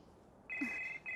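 A telephone rings with a steady electronic tone, starting abruptly partway through, pausing briefly, then resuming, clear and fairly close with no voices over it.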